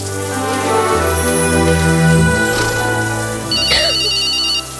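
A mobile phone ringtone plays a loud, continuous melodic tune of sustained tones, close by and lasting several seconds.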